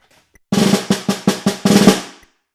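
Snare drum played hard and loud through the last two bars of an all-state honors band solo, a run of strong accented strokes and short rolls ending in a final decaying hit, heard up close without voices.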